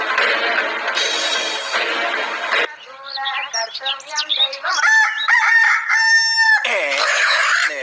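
A rooster crows loudly and close by, several drawn-out calls in succession with some clucking mixed in.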